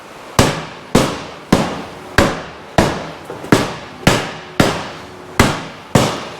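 Metal banging on a Polaris Sportsman XP 550 ATV transmission case as it is forced apart: about ten sharp, loud hammer-like strikes at a steady, roughly half-second rhythm, each ringing off briefly, with no talking.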